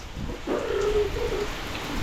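Rain falls steadily in a continuous wash, with a brief tonal call rising above it partway through.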